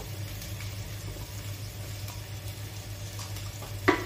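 Finely chopped onion frying in a pan for Goan muga gathi gives a steady, low sizzle that runs without pause, with a brief clatter near the end.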